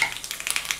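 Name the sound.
mustard seeds and fenugreek spluttering in hot oil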